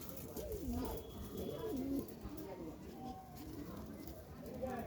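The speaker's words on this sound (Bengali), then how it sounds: "খুব ছটপটে পায়রা।" Giribaz pigeons coo close by in a steady series of low, rolling calls, with a faint chirp now and then over quiet background noise.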